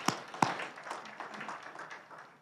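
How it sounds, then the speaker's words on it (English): An audience at a community event claps briefly: two sharp near claps open, followed by a loose, thinning patter of scattered applause that fades over a couple of seconds. "give him a round of applause"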